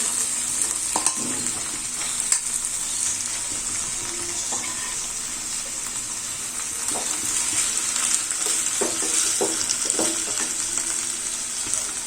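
Jackfruit seeds tossed into a hot pan for a jackfruit seed curry sizzle and crackle in a continuous hiss, with occasional clinks of a utensil against the pan and no talking.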